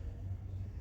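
Video game race car engine revving with a steady, loud low rumble that holds throughout the short moment, no other sounds on top.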